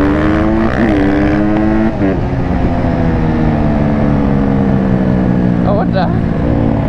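A Raptor quad ATV racing a 450, loud sustained engine roar close by with rising and falling revs and overlapping engine tones, voices talking over it.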